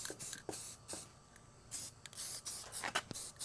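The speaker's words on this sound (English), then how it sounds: "So we'll get our spray paint." Black spray paint hissing from an aerosol can onto a giant jack-o'-lantern wreath in short bursts of varying length, close and fairly quiet, with no talk.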